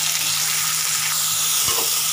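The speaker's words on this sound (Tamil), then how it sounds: "வெங்காயமும் பச்சை மிளகாயும் சேர்த்து சேர்த்துக்கோங்க" Onions, green chillies and curry leaves fry in hot oil for a Tamil mutton kulambu, giving a steady, even sizzle with a low hum beneath and a brief stir or knock partway through.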